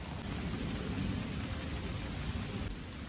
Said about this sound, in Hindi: काफी तेज बारिश हो रही है सुबह से